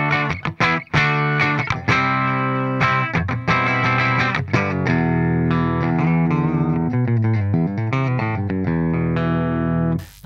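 A Kramer Nightswan electric guitar played through its bridge pickup with distortion, a loud run of fast, bright driven notes and chords that stops abruptly at the end.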